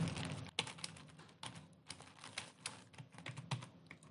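Quiet, fast typing on a computer keyboard while entering an equation into the Windows 10 calculator, a steady run of light clicks with a sharper key press near the end.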